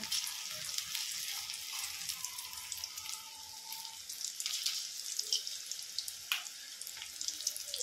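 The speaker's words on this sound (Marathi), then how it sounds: "तर याला आता मीडियम गॅस करून चांगले फ्राय करून घ्यायचे।" Spoonfuls of corn pakoda batter frying in hot oil make a faint, steady bubbling sizzle with occasional small crackles and pops, heard close with no voices.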